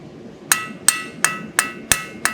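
A blacksmith's hammer strikes hot metal on an anvil during forging, six sharp ringing blows in a steady rhythm, each with a bright metallic ring that decays quickly, heard close and clear with no talking.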